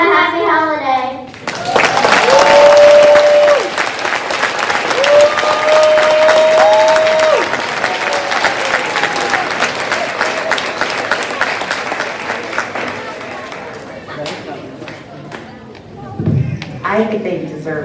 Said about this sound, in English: I think they deserve another huge round of applause.